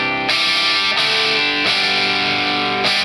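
An electric guitar played through a BOSS JB-2 Angry Driver pedal in its Boss mode gives a sustained, saturated distorted tone. Several strummed chords ring out in succession, loud and close, with no talking.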